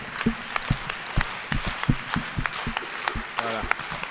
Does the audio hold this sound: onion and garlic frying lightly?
no